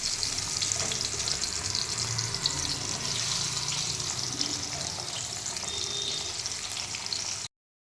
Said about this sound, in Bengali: এবার এক এক করে ভাজাগুলি ছেড়ে দেবো।